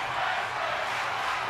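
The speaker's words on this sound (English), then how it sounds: "The crowd's liking this match." Wrestling arena crowd in WWE 2K25, a steady broad roar of cheering spectators with no breaks throughout.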